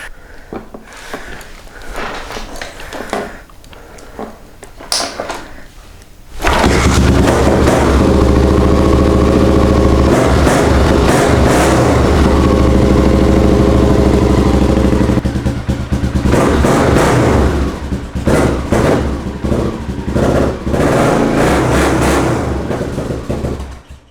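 A Honda XL600R motorcycle engine catches on its first start after some quieter cranking and clatter, then settles into a loud, steady, close running rumble that carries on for most of the clip with slight shifts in revs.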